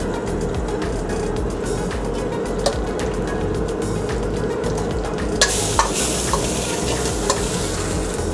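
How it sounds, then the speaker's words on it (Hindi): Dry red chillies and Schezwan pepper roasting in a pan for Schezwan paneer, a loud continuous sizzle with repeated spatula clicks and scrapes, brighter and harsher near the end, without speech. "ड्राई रेड चिल्ली है, भून दिए इसको।"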